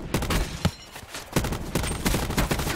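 Gunfire rattles in Call of Duty Blackout solo battle royale, with rapid, loud bursts of repeated shots across the whole stretch and no talk over them.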